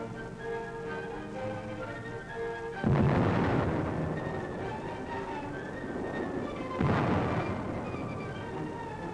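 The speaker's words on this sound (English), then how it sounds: "They're entrenched in the city's post office and under repeated fire of Nazi-trained militiamen." Gunfire at the Danzig post office in 1939 comes as two sudden, heavy bursts of rumbling firing with a few seconds between them, each dying away slowly over a steady tonal background.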